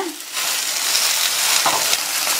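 Sago (javvarisi) dosa sizzling steadily on a hot pan just after being flipped, a close, continuous frying hiss with a faint scrape at the start.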